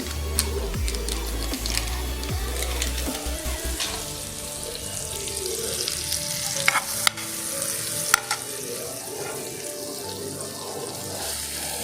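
Butter frying in a pan while an omelette gravy is made, Mumbai street-food style: a steady close sizzle with stirring and scraping throughout, plus a few sharp clicks near the end.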